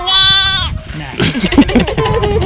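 A lamb on a farm lets out a loud, wavering bleat up close, followed by people talking nearby and a few fainter bleats beneath their voices.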